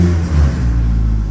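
A built Honda H22A engine in a car revs with a steady low mechanical drone and strong low-end rumble throughout, loud and close, with no talking.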